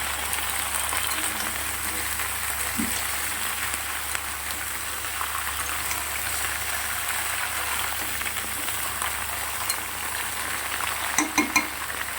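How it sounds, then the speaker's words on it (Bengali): Mixed vegetables lightly fried in a pan for shukto, a continuous dense hiss and sizzle of hot oil that stays even throughout, with a few faint knocks late on. "সব সবজিগুলো একটু ভাজবো হালকা করে"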